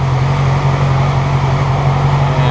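A 2006 Yamaha R6 sport bike engine running with a charging-system fault, a loud steady hum with a strong low tone held at a constant pitch, not yet climbing.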